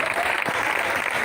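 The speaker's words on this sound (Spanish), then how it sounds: "dale un aplauso fuerte a Cristo" Church congregation applauding at a sermon, a steady dense wash of many hands clapping throughout, fairly loud and continuous with no clear break.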